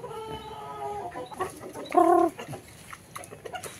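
Backyard chickens clucking while being fed, several close, chattering calls with one louder squawk in the middle, no one speaking.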